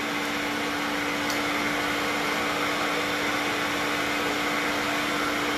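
An electric mixer beats egg yolks with sugar for a dessert, giving a loud, steady whirring drone with an even hum throughout and no talking over it.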